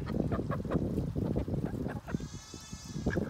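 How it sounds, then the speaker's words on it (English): Several drakes quack in a loud, continuous nasal chorus of overlapping calls close by, with a higher squeaky call rising near the end. "Thought you guys might like to see the ducks."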